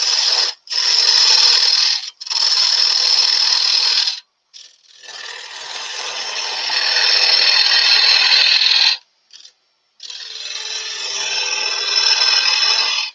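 Chisel or hand tool scraping and paring wood while cleaning up a mortise in a woodturned cube, a near, loud, steady rasping in several long bursts separated by short pauses.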